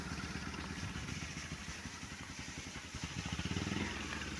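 Motorcycle engine idling nearby with a steady, rapid low putter that swells slightly toward the end.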